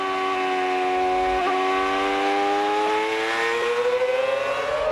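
Race car at speed at Watkins Glen International, a loud, high-revving onboard engine holding a steady whine with small pitch dips at gear changes, no voices.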